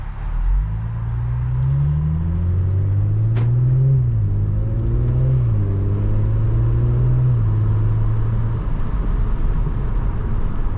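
A 2021 Audi S4 in sport mode, engine droning steadily from inside the cabin with rising and falling pitch as it accelerates and shifts through the gears, a loud continuous rumble with wind noise throughout.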